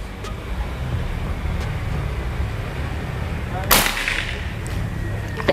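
A single loud, snappy shot from a PCP air rifle, Predator OD 38 folding-stock or Marauder OD 38, fired at paper targets, rising out of constant outdoor hum with faint ticks around it.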